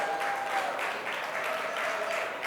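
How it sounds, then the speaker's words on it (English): Brief round of audience applause at the Pitch Madness 2019 tech conference of the Orlando Synapse event, moderate in level and continuous for a couple of seconds. "Let's give her a round of applause as well."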